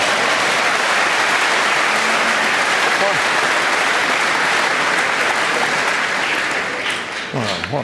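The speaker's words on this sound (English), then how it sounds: "that's the first time I've heard a big round of applause for somebody leaving the arena" A large round of applause from a snooker arena audience at the Masters, loud and sustained throughout before easing slightly near the end as a voice begins to speak.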